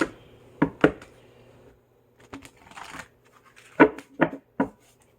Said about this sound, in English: Just shuffle a couple of times.